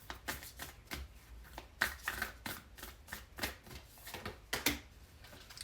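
A deck of oracle cards is shuffled by hand in a quiet room: a rapid, rhythmic run of soft riffling flutters and light slaps, close and steady.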